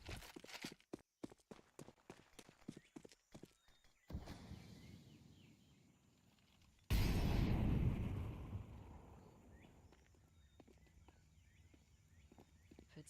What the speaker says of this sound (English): footsteps certainly are heard here by Doc